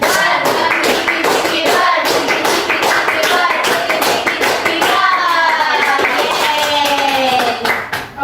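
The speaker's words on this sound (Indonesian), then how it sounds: "Tepuk berkali-kali." Rapid, steady hand clapping from a group fills the whole clip, loud and close, with children's voices mixed in.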